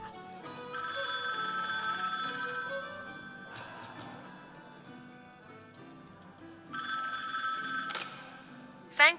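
Telephone ringing after 911 is dialed on a phone with a new SIM card: two long bursts of bright electronic ringing separated by quieter gaps, then a short chirp at the end.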